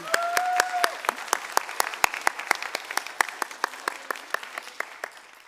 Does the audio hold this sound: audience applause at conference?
yes